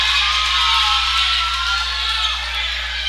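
Basketball crowd in a gym roaring after a slam dunk in a Trinity Baptist Eagles versus Pensacola Christian College men's game, a loud, dense wall of cheering that holds steady with whoops through the clip.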